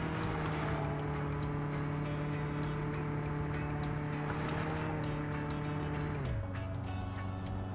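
A car engine in the video game Mon Bazou strains uphill in 2nd gear, unable to rev above about 5,500: a steady, loud, droning whine held near its limit, then dropping in pitch toward the end.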